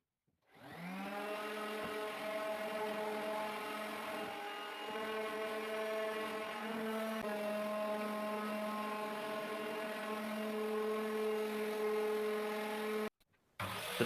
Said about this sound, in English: First thing I'm going to try and do is sand it down a little bit, just to clean it up a little bit.